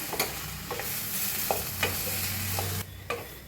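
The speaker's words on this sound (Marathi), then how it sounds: "आता भाजी मिक्स करूया छान अशी मिक्स करून घेऊया" Potato vegetable filling for Mumbai-style vada pav is stirred and mixed in a pan, with scraping spoon strokes at irregular intervals over a steady low sizzle, fairly close, with no talking.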